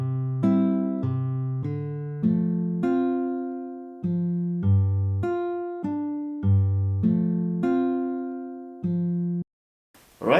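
Fingerstyle guitar plays a seben rumba picking pattern in clean, plucked single notes and double-stops at a steady, lilting pace, close and clear, ending in a brief silence and a soft noise.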